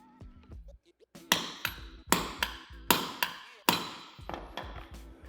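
A series of sharp metallic hammer blows, about six strikes at a steady pace, each ringing briefly, close by, knocking at a tension rod bushing on a Nissan Skyline R32.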